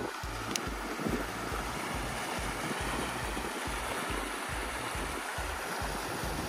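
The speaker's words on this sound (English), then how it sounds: "But look, we got a little movement of water." Gentle stream water flowing steadily at Pedernales State Park, a soft continuous wash with a low pulsing rhythm and light wind, no talking.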